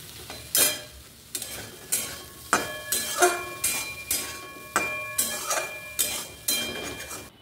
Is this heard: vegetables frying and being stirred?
yes